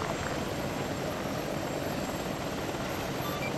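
A Chinook helicopter in the video game ARMA 3 gives off a steady, loud rotor and engine roar that holds constant throughout, with no talk.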